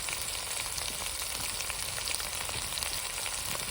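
Spices sizzle and fry in hot oil for a village-style mutton gravy, a steady, dense crackle that runs unbroken and close throughout with no voices.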